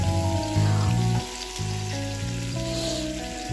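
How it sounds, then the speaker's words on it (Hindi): Oil heats in a pan for pav bhaji, frying with a steady close sizzle and crackle, under a low hum, with no talking over it. "टू टेबल स्पून मैंने इसमें ऑयल ऐड कर दिया है"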